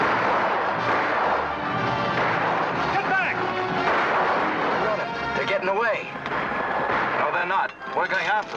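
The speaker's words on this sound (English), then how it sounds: "Everybody, take cover and open fire." Gunfire rings out in a battle scene from a 1940 western film, with repeated shots and booms over a dense, loud mix of shouting voices and music.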